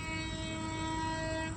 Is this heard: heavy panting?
no